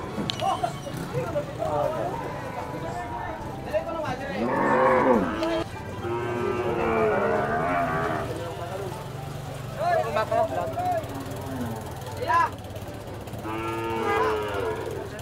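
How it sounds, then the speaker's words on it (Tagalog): Large carabao (water buffalo) at a rural livestock sale in Canlaon moos several times in deep, drawn-out calls, fairly near and loud, with people talking and background farmyard noise throughout. "Ang laki ng kalabaw, oh."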